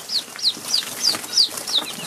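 Little chickens give a run of six high, bright chirping calls, evenly spaced and fairly close, with no other sound between them.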